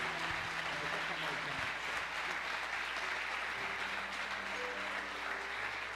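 Congregation in a church applauding steadily and evenly for several seconds, a faint, distant wash of clapping with a brief voice in the background.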